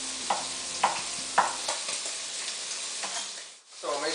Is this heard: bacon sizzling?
yes